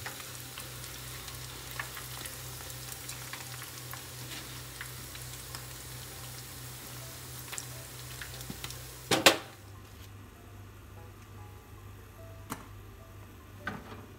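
Chicken pieces fry in oil for Korean honey fried chicken, a steady close sizzle that stops abruptly partway through, leaving quieter room tone with a couple of faint clicks.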